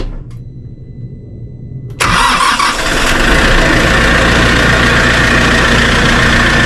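A Kioti RX6620 tractor's diesel engine cranks briefly in about 35-degree weather, then roars to life and settles into a loud, steady rumbling idle close by.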